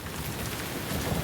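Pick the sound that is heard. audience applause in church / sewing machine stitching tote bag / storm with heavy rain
storm with heavy rain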